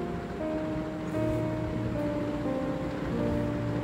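The Ganges river flows at Rishikesh in a steady, broadband rush of water that holds at a constant level, with faint tonal hums threaded through it and no voices.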